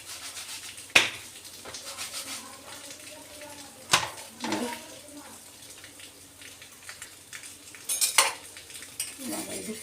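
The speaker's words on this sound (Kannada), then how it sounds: "ಇವಾಗ ಹಂಚಿಗೆ ಸ್ವಲ್ಪ ಬಟ್ಟೆನ ಸವರ್ಕೊಂಡು ಇನ್ನೊಂದು ರೊಟ್ಟಿನ ಹಾಕ್ಕೊತೀನಿ" A cloth is rubbed over a hot griddle and a jowar roti is set down on it, with soft scraping and rubbing punctuated by a few sharp metallic clunks spread over about ten seconds.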